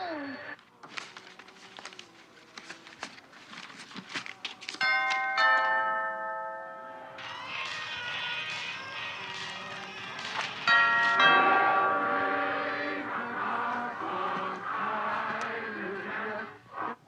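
Bell chimes ring out in a quick series over a music track, with tones that ring and overlap before a sustained musical passage takes over.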